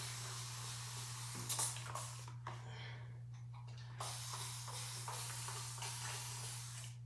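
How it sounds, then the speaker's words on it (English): A handheld spray bottle mists water onto the ends of hair in a few quick hissing bursts, heard close against a steady low hum in a quiet room. "Spray the ends."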